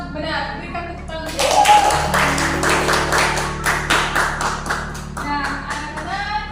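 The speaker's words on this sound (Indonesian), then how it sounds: "Berikan tepuk tangan." Children in a classroom clap their hands together in a quick, fairly rhythmic burst that is close and lively, with a voice speaking briefly before and after the clapping.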